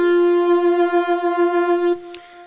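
Keyboard holds one bright sustained synth note from the solo, with a steady wavering vibrato for about two seconds before it cuts off abruptly into near silence.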